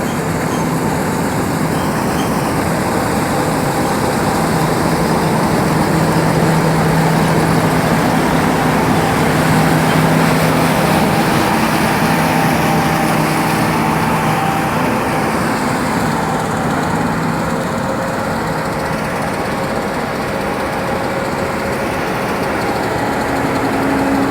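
A Kenworth truck hauling a light load of corn runs with a steady, continuous engine drone and idle rumble close by, with no talk over it.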